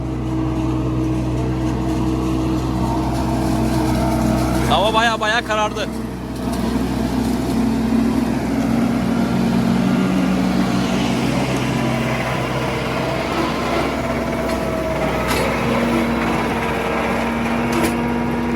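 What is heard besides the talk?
tractor with forage harvester machine droning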